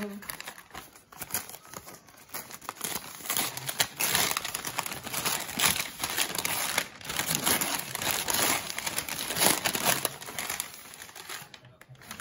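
A wrapped box from an advent calendar, holding reed perfume diffusers with wooden sticks, is opened up close with continuous crinkling, tearing and rustling of paper and packaging, and a voice speaks faintly over it.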